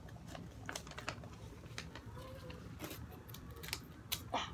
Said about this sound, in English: If y'all have scissors, y'all can get it and cut it.